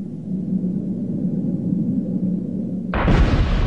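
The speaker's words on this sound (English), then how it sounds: "the standard practice for exposing a new rock face is to blast it" An explosive blast exposes a new rock face in a mine. A low rumbling drone gives way to a sudden loud, broad burst that keeps roaring to the end.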